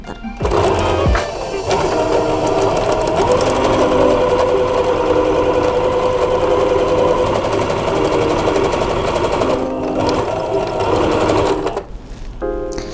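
A sewing machine runs steadily, stitching the sleeve seam of a shantung fabric blouse. The motor hum is close and continuous for about ten seconds and stops briefly near the end.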